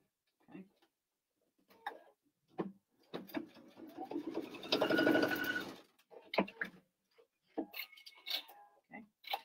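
A sewing machine stitches a fabric bias strip onto an elastic picnic casserole cover in one close, steady whirring run of about three seconds, framed by quiet handling rustles and brief throat noises.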